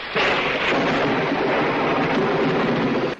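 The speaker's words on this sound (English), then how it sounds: "I like how it's a fucking stormy night and shit too, like in the books." Steady, loud storm noise on a stormy night in a Sherlock Holmes film, a continuous broadband rumble and wash like thunder and heavy rain filling the whole stretch without a break.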